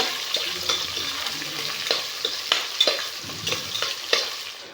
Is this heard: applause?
no